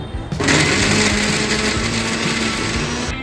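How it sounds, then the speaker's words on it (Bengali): Electric mixer grinder blending a spice paste for Bengali egg korma: a loud, steady motor whine and grinding roar that starts abruptly and runs continuously, with no talk. "মশলাটা একটু মিক্সিতে এবার ঘুরিয়ে নিচ্ছি।"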